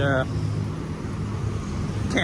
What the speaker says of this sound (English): A little bit noisy, as you can hear, with the traffic zooming up and down